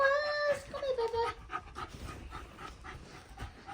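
A 12-year-old dog pants quickly and steadily close by, with a brief tonal cry at the very start.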